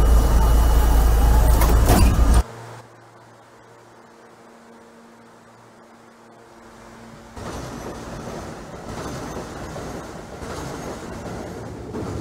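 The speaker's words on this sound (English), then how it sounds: "This is a Queensbound A Express train." A Queensbound NYC subway A express train in Trainz Simulator 2012 opens with a loud roar for about two seconds, then settles into a steady, quieter motor hum with a tonal whine before the rumble swells again.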